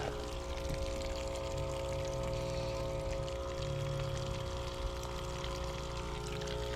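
A rebuilt tractor three-point sprayer pump moving liquid through its lines, a faint steady gurgling flow with a low mechanical hum underneath, continuous and without talking.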